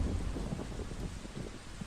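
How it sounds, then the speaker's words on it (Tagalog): Heavy rain pours steadily in a dense, even hiss, with deep rumbling thunder rolling underneath throughout, loud and continuous with no voices. "Kumidlat at kumulog. Bumuhos ang malakas na ulan."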